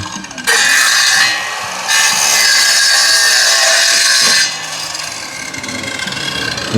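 A hand saw rasps loudly through wood in long, sustained strokes with brief pauses between them, close by and without talk.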